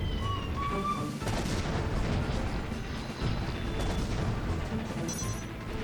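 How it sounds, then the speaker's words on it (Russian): Machine gun rattling from a tower in an old-school shooter game, with a dense, continuous stream of rapid fire and booming impacts filling the mix at steady loudness. "что-то пулемет из башни строчит"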